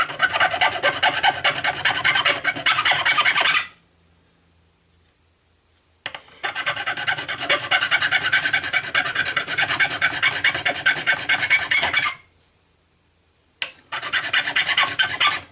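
A file scrapes an aluminum airsoft pistol barrel tip on a Cybergun Sig Sauer P226 in fast, steady strokes, close and loud, in three long bursts separated by short pauses of silence.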